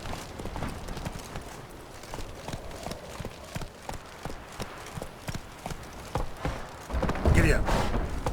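Roach the horse's hooves clip-clop in steady rhythm while riding in the Witcher 3 video game, a mid-distance repeated thudding gait with a brief louder burst near the end and faint background voices.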